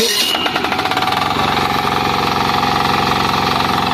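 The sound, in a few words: 8 HP diesel engine of a power tiller running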